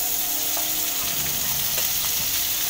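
Butter sizzling in a heated pan before onions go in for a mixed vegetable sandwich filling, a close, steady crackling hiss with faint scattered pops.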